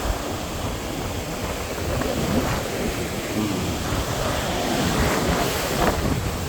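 Sea waves washing continuously at a beach while sandals are rinsed in the seawater, a broad loud surf rush mixed with wind buffeting the microphone, with no clear breaks.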